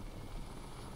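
Helicopter in the video game Crysis, a continuous low rotor and engine drone heard at night near an extraction point, steady and fairly quiet with no talk.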